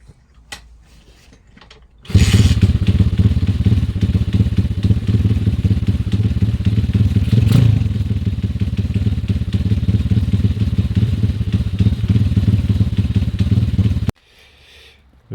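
YCF 150 SP1 dirt bike engine starts at once and runs at a steady loud idle for about twelve seconds, with a brief rev swell midway, then cuts off into near silence.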